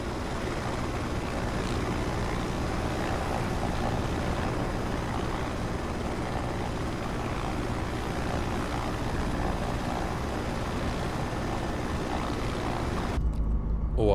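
Steady broadband turbine and rotor hum of a 500C helicopter in a flight simulator, loud and continuous for the whole stretch before dropping off abruptly near the end.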